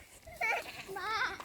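A young buckling goat bleats twice, close and clear, with wavering cries in quick succession, plaintive and moderately loud.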